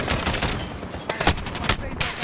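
Rapid bursts of automatic gunfire crackle in Call of Duty: Modern Warfare, several sharp shots and short volleys clustered across a couple of seconds, loud and close over a busy battlefield background.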